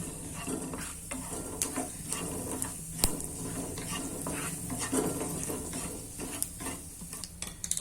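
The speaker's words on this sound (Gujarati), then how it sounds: "સરસ રાઈ જીરું ફૂટી ગયા છે" Mustard and cumin seeds crackle and pop in hot oil with a steady sizzle, sharp little bursts scattered throughout, close by, with occasional metallic clinks.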